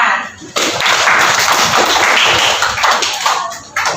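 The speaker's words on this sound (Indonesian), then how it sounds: "Tepuk tangan." A classroom of students clapping hands together in a dense burst of applause lasting several seconds, loud and close, before it drops off abruptly.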